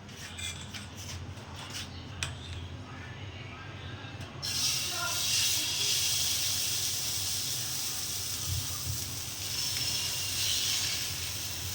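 Paratha frying in a pan, a steady broad hiss that swells louder midway and holds, with faint clicks and low background noise, no talk.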